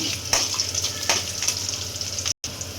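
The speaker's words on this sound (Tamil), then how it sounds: "ஒரு 10 பல்லு பூண்டு சேர்த்துக்கலாம். பூண்டு அப்படியே கொஞ்சம் வதங்கட்டும்." Garlic cloves and green chillies sauté in hot oil in a pan, giving a close, even sizzle with a few sharper crackles and a brief dropout near the end.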